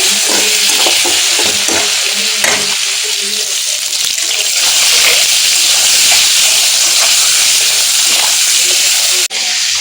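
Pumpkin pieces frying in a pan in a home kitchen, a loud continuous hiss and sizzle with scraping stir sounds, close up, with faint talk underneath.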